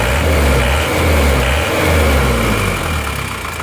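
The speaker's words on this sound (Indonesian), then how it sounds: "Yuk kita gas-gas dulu." A car engine, still in original condition and said to blow heavy smoke, is revved repeatedly, loud and close, with a steady low idle rumble rising and falling in a couple of throttle swells.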